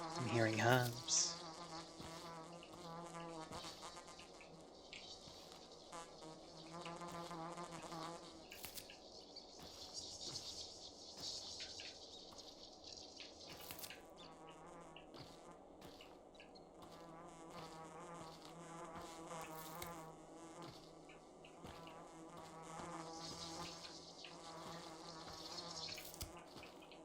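Twire herb in the Pathologic 2 video game gives off a steady, insect-like drone that sounds like a fly or bee. It hums continuously for the whole stretch over a dim, tonal game ambience, and no one speaks.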